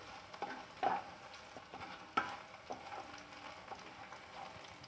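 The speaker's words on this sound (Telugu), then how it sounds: "ఈ వెల్లుల్లిని ఒక 2 నిమిషాల పాటు ఈ ఆయిల్లో ఫ్రై చేయాలి" Garlic paste frying in oil in a pan for an egg curry, a soft steady sizzle with a few sharper stirring scrapes and clicks, close and moderately quiet, no talking.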